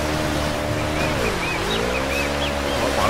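A waterfall in the video game Uncharted: Drake's Fortune gives a steady, dense rush of falling water, loud and constant throughout, with a low engine-like hum layered beneath it.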